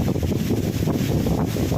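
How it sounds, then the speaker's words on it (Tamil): Wind blows hard against the microphone in a steady, rumbling buffet that rises and falls in small gusts. No other sound stands out. "காற்று எப்படி அடிக்குது பற்றியா?"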